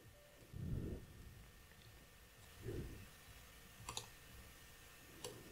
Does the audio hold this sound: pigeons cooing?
no